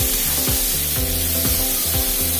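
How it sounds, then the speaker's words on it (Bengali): Mango pieces fry in hot oil with panch phoron, giving a loud, continuous sizzle with scraping stirring strokes repeating about twice a second close by. "এখন দিয়ে দিচ্ছি আমগুলা। আমের টুকরাগুলো দিয়ে নিয়ে এবার নাড়ি চাড়িয়ে আমি বেশ কিছুক্ষণ ভাজি নেব।"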